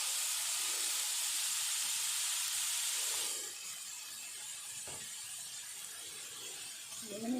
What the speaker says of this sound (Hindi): ये ऑयल मेरा गर्म हो गया है, इसमें हम ये डालते हैं थोड़ी सी मूलियाँ